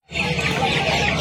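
Many chickens cluck together at a poultry market in Uluberia, Howrah; the dense flock noise starts abruptly and stays steady and fairly loud.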